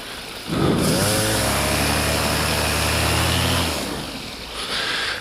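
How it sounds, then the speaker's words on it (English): A small engine revs up hard and holds a high, buzzing, strained pitch for about three seconds, then falls back toward idle. The sound is close and loud, with wind noise around it. "Get some revs up there."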